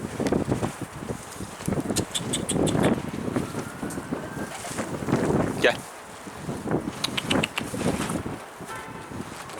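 Strong wind buffets the microphone outdoors at a pigeon loft, a steady low rumble with gusty swells, while someone speaks briefly over it.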